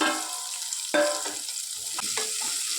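Thinly sliced large onion hits hot oil in a pan for a chilli gongura curry, crackling in a dense close sizzle with a few sharper stirring bursts.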